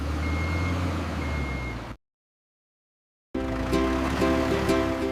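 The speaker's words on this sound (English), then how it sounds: "Now watch it work. It fills the dump truck with sand" A reversing alarm beeps repeatedly on construction machinery while a wheel loader loads sand into a dump truck, steady engine rumble underneath, cut by a gap of silence before the beeping and machine noise resume louder.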